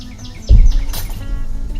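Birds chirp in short high tweets outdoors, interrupted by a sudden close thump partway through.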